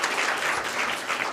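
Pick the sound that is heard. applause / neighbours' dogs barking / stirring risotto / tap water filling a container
applause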